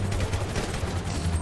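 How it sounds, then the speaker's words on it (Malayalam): Rapid gunfire in the video game GTA 5, a dense burst of overlapping shots with a low rumbling background, loud and continuous through the short moment, no speech. "ഓ നമ്മളെ വെടിയേക്കണ കേട്ടാ മോനെ"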